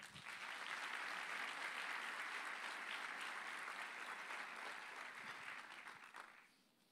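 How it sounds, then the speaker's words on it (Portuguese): Church congregation applauding the Lord during a sermon, a broad sustained roar of many clapping hands that holds steady for several seconds and then fades out at the end. "Vamos aplaudir o Senhor."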